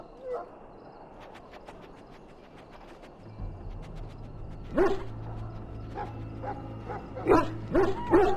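A dog in the fantasy role-playing game Dragon Age: Origins whimpers and gives short yips over a low ambient drone, the sounds close and intermittent toward the end.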